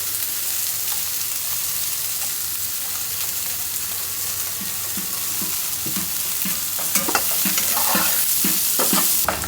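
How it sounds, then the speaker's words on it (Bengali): Eggplant slices fry in oil with a steady, even sizzle, joined in the second half by a run of soft scraping and stirring knocks that grow slightly louder near the end; no one speaks. "বেগুনটা ভাজতে তেল লাগে"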